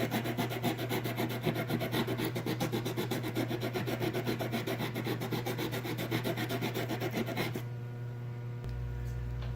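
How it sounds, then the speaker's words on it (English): Sandpaper, stepping up to 220 grit, is rubbed over a boat propeller in fast, even back-and-forth strokes for several seconds, then the sanding stops and leaves a quiet hum. "So now we've gone through the sanding"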